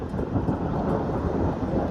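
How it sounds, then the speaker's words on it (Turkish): Thunder from a storm over a safari park beside a forest, a steady deep rumble that fills the whole stretch, heavy and continuous with a faint patter of rain beneath it. "Duyuyorsunuz gök gürülüyor."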